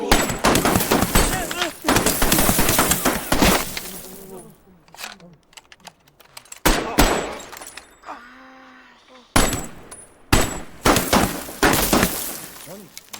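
Mortar fire is heard as loud, abrupt bursts and blasts with crackling debris, set among shouted commands and talk.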